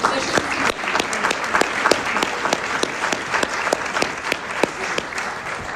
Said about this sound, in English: Please give us a round of applause for our musicians.